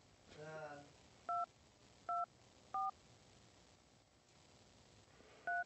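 A telephone keypad sounds four short, evenly spaced dialing beeps at close range after a brief burst of speech, with quiet background between the tones.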